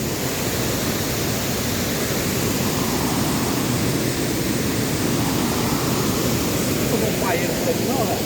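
Cachoeira do Zola waterfall roars as a loud, constant broadband rush of falling water, steady throughout with no break.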